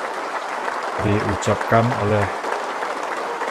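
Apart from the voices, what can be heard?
applause at Indonesian presidential inauguration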